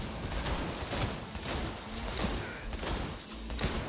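Rapid gunfire from the video game Cyberpunk 2077 crackles in dense, repeated bursts, moderately quiet and continuous throughout with no pauses.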